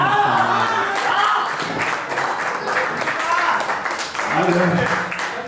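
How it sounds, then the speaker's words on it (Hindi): Clapping from an audience at a Hindi poetry (shayari) recital, steady and moderately loud, running beneath a reciting voice throughout. "अब आगे आप तालियां बजाते जाए"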